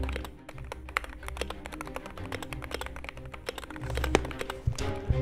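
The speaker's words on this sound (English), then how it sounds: "This is the Wooting 60HE. It is one of the greatest keyboards for gaming," Stock Wooting 60HE gaming keyboard being typed on, a steady run of fast, crisp keystroke clacks with occasional louder taps, close and alone with no talk.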